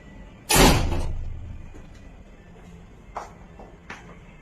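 An entrance door of a 3BHK flat swings shut with one loud, close thud that decays into the quiet hallway, followed by a couple of faint knocks.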